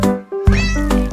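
Kittens meow up close, loud and clear, in a quick run of plaintive, drawn-out cries with no other sound.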